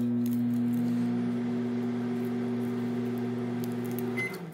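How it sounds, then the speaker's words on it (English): A microwave oven runs with a steady electric hum and drone at moderate level, ending with a short beep near the finish, no voices over it. "throw it in the microwave a little bit"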